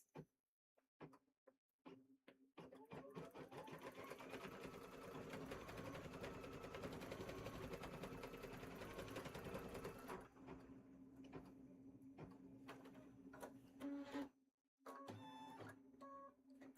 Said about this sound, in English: we're going to stitch our 2 placement lines